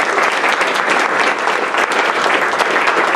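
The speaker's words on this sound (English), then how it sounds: "please just give her a round of applause." Steady, dense clapping from an audience at a club meeting as a new honorary member is welcomed, sustained and fairly loud throughout, with no talking over it.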